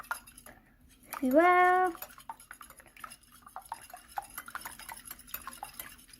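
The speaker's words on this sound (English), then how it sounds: "And we'll mix them." Ingredients for kid-friendly vegetable quesadillas being mixed in a bowl: steady light clinks and scrapes of a utensil against the bowl, with a brief voice speaking near the start.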